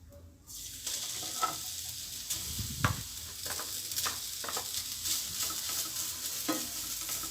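Grated coconut frying in ghee gives a steady, close sizzle with a scatter of soft scraping stirs from a spoon, running evenly throughout with no voices.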